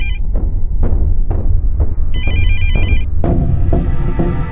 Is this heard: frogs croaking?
no